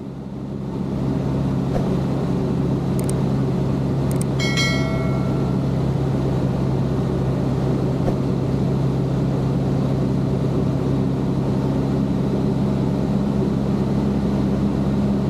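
Cessna 152 light aircraft engine in flight on a circuit pattern, a loud, steady droning hum that holds constant throughout with no talk.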